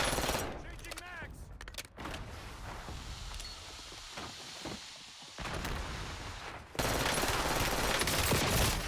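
Fast automatic gunfire from a high fire-rate weapon in the video game Call of Duty Warzone, a continuous rattle of rapid shots under dense game noise, growing louder toward the end.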